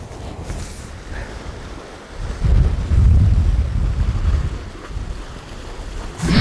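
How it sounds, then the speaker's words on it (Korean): Strong wind blowing over the sea during winter fishing for black sea bream, buffeting the microphone in heavy low gusts that swell in the middle and ease again, with waves and a boat underneath and no talking. "와, 무슨 바람이."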